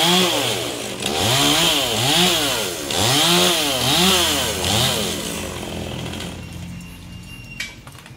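A chainsaw cutting down an old coconut tree revs and bogs repeatedly in rising and falling waves, loud and close, cutting steadily before tapering off.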